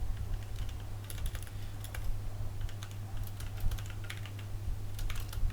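Code is typed on a computer keyboard for a Java program, with rapid, irregular, close key clicks in short bursts over a constant low electrical hum and no voices.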